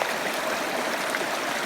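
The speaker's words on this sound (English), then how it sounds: "So basically this is where our pond overflows, and it's like an actual waterfall." Overflow water from a pond on a rainy day runs down a slope like a small waterfall, giving a continuous, fairly loud, broad rushing and splashing.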